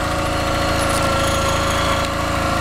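Honda ES6500 portable gas generator, 6500 watt 12 hp, running loud and close with a steady rapid engine chug and rumbling mechanical rattle throughout, no voices.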